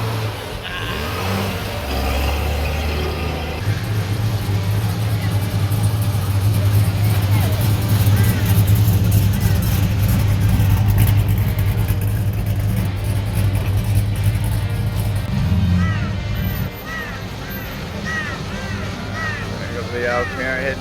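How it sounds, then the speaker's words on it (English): Old Chevrolet Camaro engine pulling out of a car show, a loud sustained rumble that rises and holds before easing off, with crowd noise and talk around it. "The old Camaro heading out."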